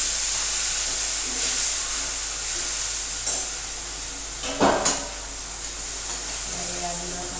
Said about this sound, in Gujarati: ટામેટા મરચાંથી વઘાર કરીશું.